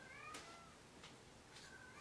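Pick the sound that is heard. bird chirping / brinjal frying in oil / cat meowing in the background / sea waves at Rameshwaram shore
cat meowing in the background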